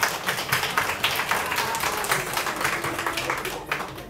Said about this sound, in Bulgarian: Аплодисменти, ако обичате.